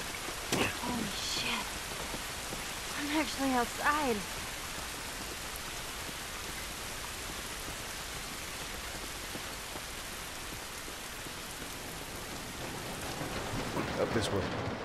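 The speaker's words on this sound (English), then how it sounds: "It's raining." Steady rain hiss in The Last of Us Remastered fills the scene throughout, with brief voices speaking near the start and end over the continuous downpour.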